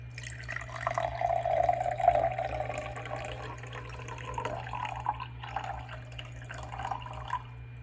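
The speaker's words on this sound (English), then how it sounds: "Now we're going to add the water to the empty glass," Water poured into an empty glass for a kitchen oil-and-water experiment, a close trickling and gurgling stream that rises in pitch as it fills, over a low steady hum.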